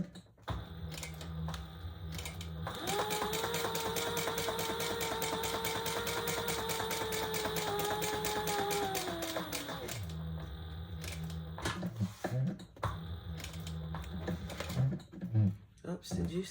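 A sewing machine backstitches fabric for a bag in one steady, close, whirring run of about seven seconds, with a rising and falling motor whine. Someone talks before and after.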